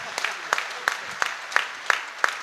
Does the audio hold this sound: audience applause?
yes